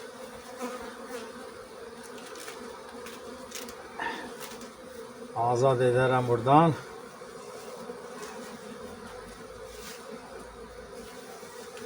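Steady buzzing of honeybees fills the clip, with a short louder burst near the middle and brief speech partway through.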